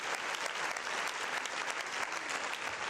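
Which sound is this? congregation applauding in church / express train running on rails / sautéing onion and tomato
congregation applauding in church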